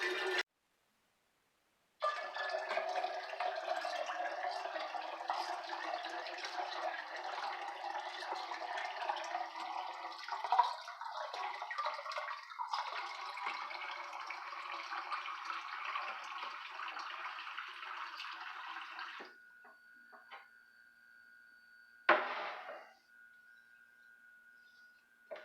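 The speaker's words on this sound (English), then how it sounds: "Adding filtered water" Filtered water pours steadily into a container to rinse a solution, a continuous faint stream running about seventeen seconds before thinning to a trickle, followed by a brief splash and quiet tail.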